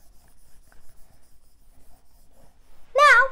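A board is wiped clean with soft, faint rubbing strokes in a quiet room. Near the end comes a brief, louder squeaky tone.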